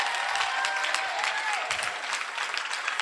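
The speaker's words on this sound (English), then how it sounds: "another round of applause" Steady applause from an audience fills the room, dense clapping that continues evenly throughout.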